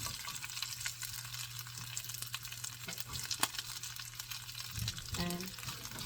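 Chopped garlic and onions fry in a pan with a steady low sizzle, faint and continuous, with a brief clatter and some bubbling near the end; no one speaks.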